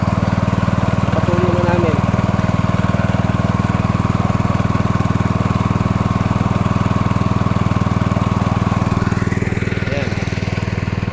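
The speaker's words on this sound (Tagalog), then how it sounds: "Ito na yung poso natin, yung bomba." An engine-driven water pump, the farm's bomba, runs loudly and steadily in a close, continuous drone with a low throb, while people talk briefly over it.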